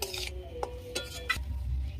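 Spice paste being stir-fried with pre-fried potato and carrot for a quick Maggi noodle dish, quiet sizzling beneath a few sharp spoon scrapes and clinks against the pan, close and soft.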